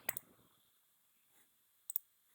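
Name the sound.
computer mouse clicking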